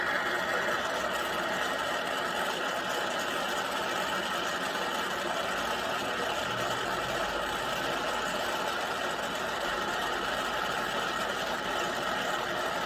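Welding on a 101b pipe adapter gives a steady, dense crackling buzz that runs unbroken and close for the whole stretch, with no talking.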